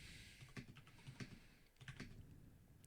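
Steady keystrokes on a computer keyboard, clicking in short irregular bursts with brief pauses, close and fairly quiet, no voices.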